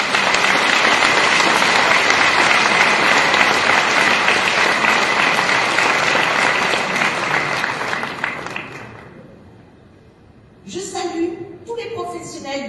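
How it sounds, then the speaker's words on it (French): Audience applause at a 2015 New Year's greetings ceremony held by the mayor of Athis-Mons, dense and sustained for about nine seconds before fading, followed by someone speaking. "Je crois qu'on peut les applaudir pour leur dévouement."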